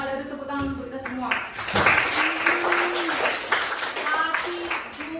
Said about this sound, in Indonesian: Aduh, tepuk tangan untuk kita semua.